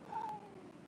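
A cat gives a single short meow, fairly faint and close, with no talking over it.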